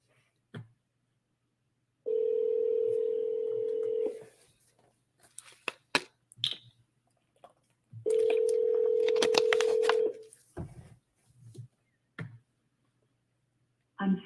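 A telephone call gives two long steady ringback or dial tones a few seconds apart, with short clicks and beeps of dialing and handling in between, close and clear, with no talk.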